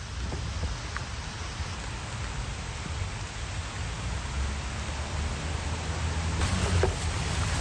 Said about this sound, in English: Yeah, and here comes the rain again.